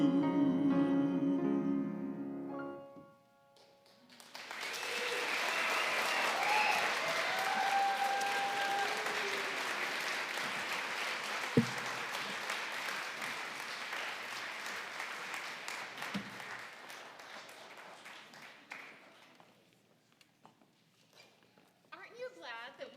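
A concert audience bursts into sustained applause after a Broadway-style song performed by a choir, loud and dense for about fifteen seconds before thinning out and fading.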